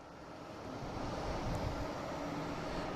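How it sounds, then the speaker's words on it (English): An airplane takes off at Boston Logan International Airport, heard as a steady, broad jet roar that swells slightly and holds, fairly distant, with no talking. "All right, we got our first takeoff."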